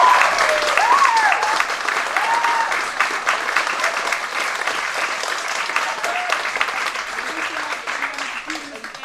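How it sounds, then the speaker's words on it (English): Audience applause at the results of a school fifth form house drama competition, a loud, dense burst of clapping from a large crowd that holds steady and slowly thins. A voice speaks faintly over it. "So, huge round of applause."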